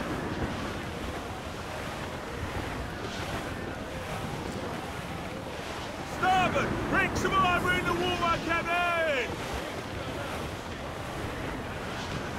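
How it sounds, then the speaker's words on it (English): Stormy sea waves and strong wind roar steadily around a sailing ship in the pirate game Assassin's Creed IV: Black Flag, while crew voices shout over the gale partway through. "Dark skies and rough seas there!"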